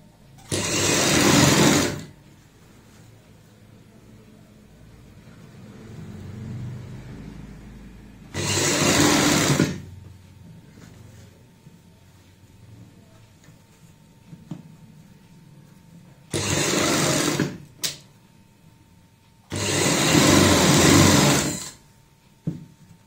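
A sewing machine stitches a girl's party frock in four loud, close bursts of whirring, each a second or two long, with quiet handling sounds between the runs.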